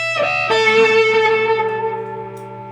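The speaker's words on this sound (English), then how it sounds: "Maybe there's a little bit too much reverb on" Electric guitar with heavy reverb: a struck chord at the start, then a second attack, each ringing out into a long, haunting wash of sustained tones that slowly decays, played alone with no voices.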